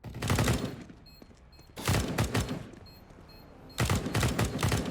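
Sprays of automatic gunfire during a competitive shooter match in a tournament cup, arriving in three loud bursts separated by quieter gaps of game ambience.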